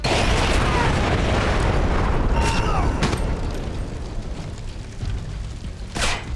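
A grenade goes off in the stealth shooter Splinter Cell: Conviction: a loud, close blast opens with a dense rumbling roar that slowly fades, and a sharper burst follows near the end.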